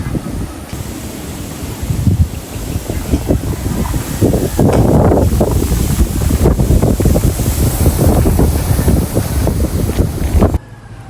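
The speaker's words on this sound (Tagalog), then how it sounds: "ganda pong tingnan itong ano ah, itong palayan kapag ka humahangin." Wind gusting across an open rice paddy in the Philippines, a steady broad rushing roar with swelling gusts and rustling leaves, loud and continuous, cutting off near the end.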